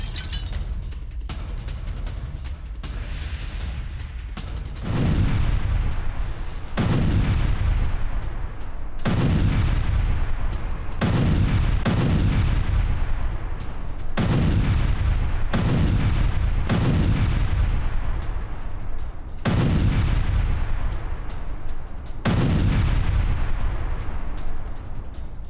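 Heavy explosions from an attack in Idlib, Syria, boom one after another, roughly ten loud blasts at irregular intervals, each with a long rumbling decay.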